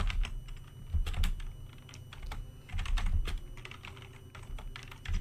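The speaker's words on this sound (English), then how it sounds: "Sorry, I'm typing real quick." Rapid typing on a computer keyboard, close and fairly loud, with bursts of clustered key clicks and short pauses between them, alone without talk.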